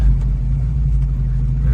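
A 1968 Chevrolet Camaro pulls to a stop, its engine a steady close rumble that holds level as the car settles, with no talk over it.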